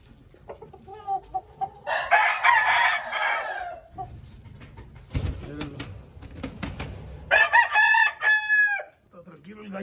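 A gamecock crows loudly nearby, with clucking and other rooster calls in bursts and some brief noises between them.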